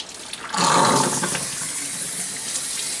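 Water from a running tap or sprayer rinses a Yorkie dog during a bath, rising suddenly into a steady, close rush that carries on to the end.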